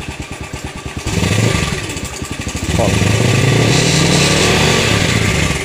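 A motorcycle with a headlight bulb that keeps burning out revs up from a pulsing idle into a loud, sustained roar, with a brief spoken word near the start.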